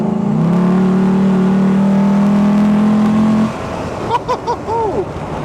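A Land Rover Defender beach runner holds a steady, loud engine drone for a few seconds, then the pitch shifts and rises as it revs and accelerates.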